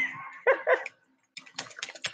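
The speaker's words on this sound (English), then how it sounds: "Great guard dog. Bark 3-4 times and then lays back down." A guard dog on a homestead gives a few quick barks at close range, a short burst followed by a pause and more sharp yaps.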